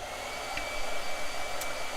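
A hair dryer blows with a steady, even airy hum at moderate distance, running continuously without breaks.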